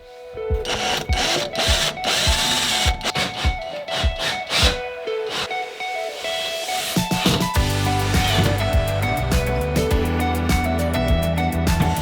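Connector screws being driven into adjoining IKEA wardrobes in an old cottage bedroom, a series of sharp clicks and taps followed by a steady mechanical whirring and ratcheting, close and loud with no voices.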